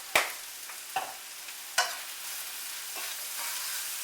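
Mexican-style corn sizzles softly in a skillet, with a few sharp clinks of a utensil stirring the kernels against the pan, quiet and close.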